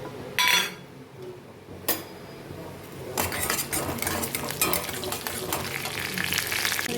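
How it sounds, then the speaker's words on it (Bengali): Fennel and whole cumin seeds crackle and sizzle in hot ghee while cooking chicken patiala, with a few sharp clinks of a utensil on the pan before a steady frying hiss takes over. "তার আগে আমি এটাতে একটু মৌরি আর গোটা জিরে ফোড়ন দেব"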